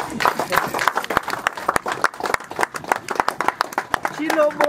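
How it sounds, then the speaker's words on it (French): Audience clapping in welcome for Roger Lumbala, a steady patter of many hands with a voice talking over it near the end. "Nous allons acclamer notre honorable Roger."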